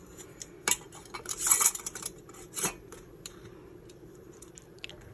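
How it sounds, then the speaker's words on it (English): Canning lids are set onto glass jars of cranberry sauce and the rings screwed on by hand, making a few close metallic clinks and scrapes with short bursts of light rattling and no talk. "then we'll put on some new canning lids and screw on the rings to fingertip"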